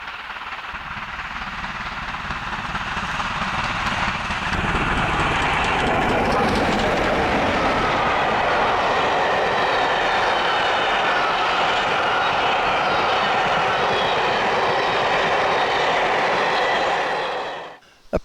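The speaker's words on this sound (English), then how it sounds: "makes its way to Bath with Steam Dreams Cathedrals Express, the 8:47am rail tour from London Victoria." Locomotive 47746 hauls the Steam Dreams Cathedrals Express rail tour toward Bath, a loud, steady mainline train roar that swells after a few seconds and rolls on unbroken for about twelve seconds before cutting off.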